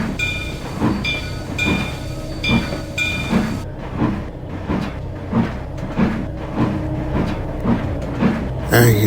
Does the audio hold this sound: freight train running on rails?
yes